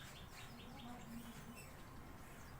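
An adult quail gives a few faint chirping calls, soft and distant against low background noise.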